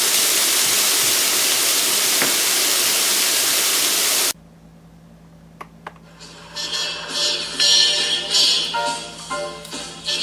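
Broccoli searing in a hot pan while being sautéed: a loud, steady hiss fills the first four seconds, then drops away to quieter intermittent clatter and softer sizzling.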